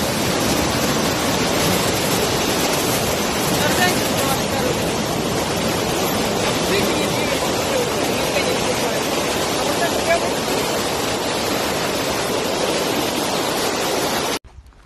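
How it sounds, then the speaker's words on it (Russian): The Kuban River, a fast mountain river in Karachay-Cherkessia, rushes in a steady, loud roar of churning water that stays constant throughout before cutting off abruptly at the end. "Такое есть у нас очень течение."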